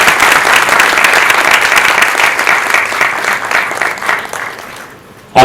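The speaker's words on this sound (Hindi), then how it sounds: "पूनम जी के लिए तालियां आपकी थोड़ी बड़ी मधुर सी हैं।" Audience applause for Poonam Dhillon at an honour ceremony: a dense, loud burst of steady clapping from a crowd that holds for several seconds, then fades out near the end.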